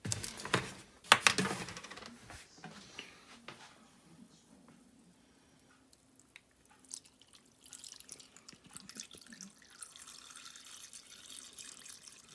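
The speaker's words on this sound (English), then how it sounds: "we're gonna go ahead and add our vinegar with Worcestershire sauce here" Vinegar mixed with Worcestershire sauce is poured over jerky meat, giving faint, close trickling and scattered drips with a brief louder splash near the start, then a quieter, uneven flow.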